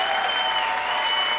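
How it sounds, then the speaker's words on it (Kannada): Loud, dense applause from an audience at a ladies' club event in Mysore, a continuous wash of many hands clapping without pause, close and full. "ಅದಕ್ಕೋಸ್ಕರ ಆದ್ರೂ ಒಂದು ಜೋರ್ ಚಪ್ಪಾಳೆ ಕೊಡ್ರಿ"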